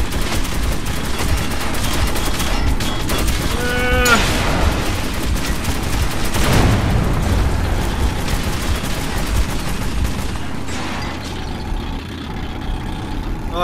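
Turret gunfire from a vehicle-mounted gun in Metro 2033 Redux rattles in loud bursts over engine rumble and mechanical clatter, running continuously with sharper volleys in the middle before easing toward the end.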